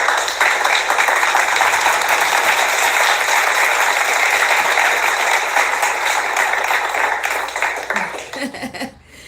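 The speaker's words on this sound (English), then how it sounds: "So you guys need a round of applause." Sustained round of applause from a live audience at a bachelorette show, dense steady clapping that holds loud for about eight seconds before tapering off, with faint crowd voices mixed in.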